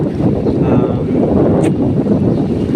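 Strong wind roars steadily over a loud rush of churning sea waves along a baywalk, with constant buffeting noise throughout.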